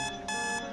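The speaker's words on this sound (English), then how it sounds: "our alarm clock is broken. It's normal if it goes off." A broken alarm clock inside the video game Midnight Zoo goes off in a short burst of electronic beeping, two quick pulses, steady and clear with no talk over it.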